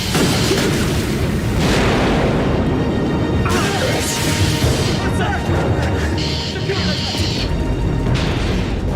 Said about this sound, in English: Explosion was on the other craft, sir.